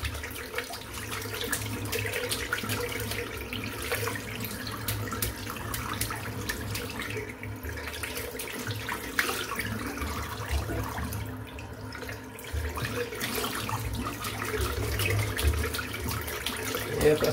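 Tap water runs steadily into a sink during a wet shave with a shaving brush, a continuous close hiss and splash with faint clatter and occasional quiet voices underneath.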